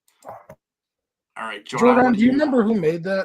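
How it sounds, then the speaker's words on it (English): Dogs bark in the background of a home recording, a few yips and barks mixed under a voice that speaks throughout. "I'm sorry if you guys hear dogs in the background."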